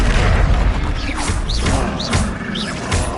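A disarming spell is cast in Hogwarts Legacy, with a series of loud magical whooshes and booming impacts bursting in quick succession amid busy game effects.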